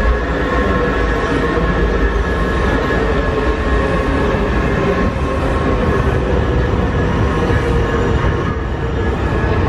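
Steady, loud rumble and rattle of a moving metro train heard from inside, continuous throughout with faint rhythmic clatter and no talking.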